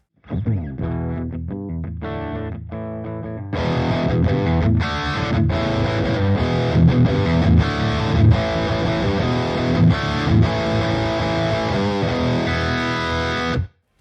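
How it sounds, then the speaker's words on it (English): Electric guitar through a guitar amp plugin's heavy distortion mode, a sparse riff that kicks into dense, saturated chords with a fuzzy, compressed roar, loud and continuous. "the spicy mode, which claims to be the Carolina Reaper of distortion. Let's hear it."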